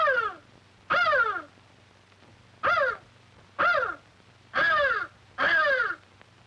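A cartoon crow gives six harsh, rasping caws in a slow, evenly spaced series, loud and near over a faint low hum.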